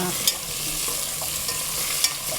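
Potatoes stir-fried in a pan for a monk's braised potato dish, with a steady close sizzle and a couple of sharp scraping clicks from the utensil, no voices.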